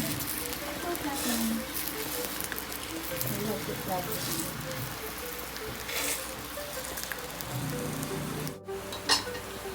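Vegetable pancake batter sizzles in a hot frying pan, a steady crackling hiss like light rain running throughout while a person talks over it.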